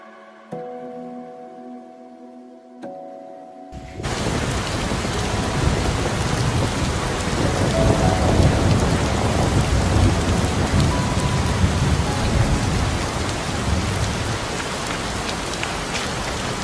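Heavy typhoon rain pours in a dense, constant roar after a quiet opening, with rumbles of thunder rolling beneath the downpour.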